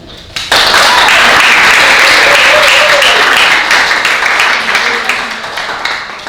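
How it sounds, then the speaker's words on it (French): Loud, dense applause from the audience at a municipal debate in Montréal-Nord bursts in after a brief quiet start and holds steady, slowly tapering toward the end, with a few voices mixed in. "applaudissez-vous"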